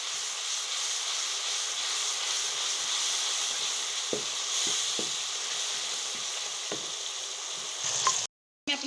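Red chili frying with spices in a pan for a Pakistani mixed vegetable dish, a steady close hiss and sizzle throughout with scattered soft clicks of stirring, cut by a brief dropout near the end.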